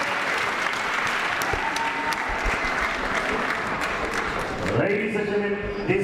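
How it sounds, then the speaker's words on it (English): Sustained crowd applause for a boxer at a boxing event, a steady wash of many hands clapping with cheering, while an announcer speaks over it. "Ladies and gentlemen, let's give this guy a big round of applause."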